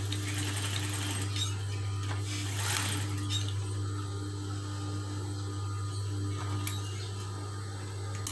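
A sewing machine runs continuously as it stitches a cloth face mask, its steady motor hum and fast rhythmic needle chatter close and even throughout, with no talking.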